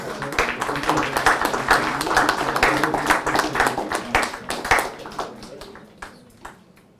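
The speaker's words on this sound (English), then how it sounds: "Big round of applause, please." Audience at a book launch event applauds as a memento is presented to the chief guest, dense clapping with sharp individual claps, fading out toward the end, with some voices mixed in.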